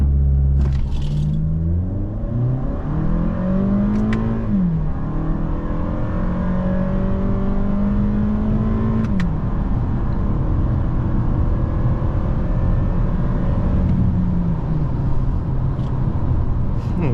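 A 2019 Toyota Camry XSE accelerating hard from 0 to 60 mph in sport mode with traction control off and paddle shifting, its engine droning loudly and climbing in pitch, dropping with each of several upshifts amid steady road roar.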